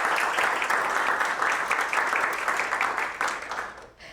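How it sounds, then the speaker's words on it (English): An awards ceremony crowd applauds with dense, steady clapping that fades out toward the end. "Please give a round of applause for our Unsung Hero Award finalists."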